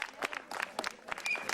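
Applause welcoming brahmacharis at a Vedic school event in The Hague: a short burst of scattered clapping from a modest crowd, fairly close and uneven.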